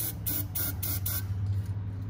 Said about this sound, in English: A little bit of starting fluid.